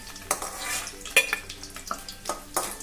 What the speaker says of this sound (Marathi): हे बघा, अशी अंडी भाजून घ्यायची